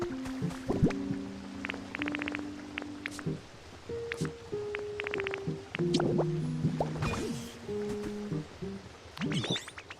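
Water wheel splashing in the video game Pokémon Pokopia: soft dripping, trickling splashes come and go under steady melodic game music tones, with no talking.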